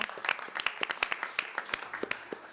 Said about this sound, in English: Gabriela, let's give Gabriela a round of applause right now.